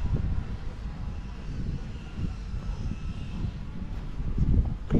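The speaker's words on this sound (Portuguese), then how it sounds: "Agora eu vou tentar pousar o drone aqui, olha." A drone hovers and descends toward a blue landing platform outdoors, its steady whirring drone running loud and close for the whole stretch with wind-like rushing and no break.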